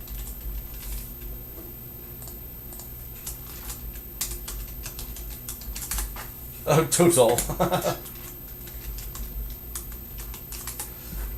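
Rapid bursts of typing on a computer keyboard, close and clicky, with a dense flurry of keystrokes midway; a person speaks briefly over it.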